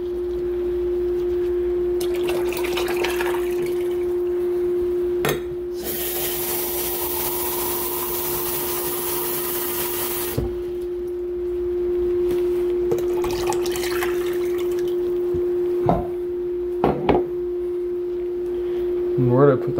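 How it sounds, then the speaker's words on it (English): Hot water is poured into a container in a steady, rushing stream lasting several seconds over a constant electrical hum, with scattered clinks and drips before and after. "We're gonna add half a liter of hot water to each."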